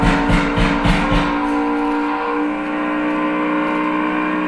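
Stock cars accelerating at the start of the Daytona 500, a loud close roaring pack with rapid pulsing bursts early on that settles into a sustained, rising engine drone.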